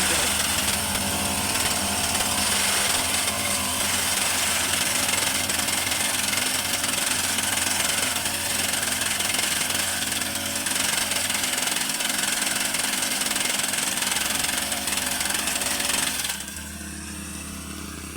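A loud petrol engine on a small cutting machine roars steadily with a rough, rattling drone close by, then drops to a lower idle near the end.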